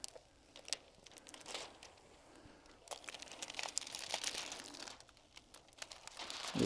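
Backing paper being peeled off a temporary floor graphic, soft crinkling and tearing crackles coming in uneven bursts, quiet and close, with no talking.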